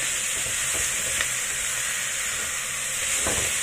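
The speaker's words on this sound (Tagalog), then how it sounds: "I-fry lang natin yan hanggang sa maging mawala yung kulay red niya." Chicken fries in a wok for Taiwanese-style curry, a loud, steady, dense sizzle and hiss with faint scraping stirs underneath, close and continuous with no talking.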